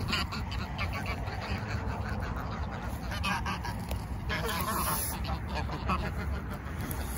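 Ducks quacking steadily against a constant, noisy background, a flock calling close by with repeated overlapping quacks and honks throughout.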